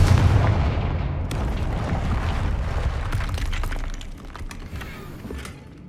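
In Hogwarts Legacy, a Confringo blasting spell sets off a loud, close explosion with a heavy boom and crackling debris. A dense burst of sharp blasts and shattering follows and slowly fades over several seconds.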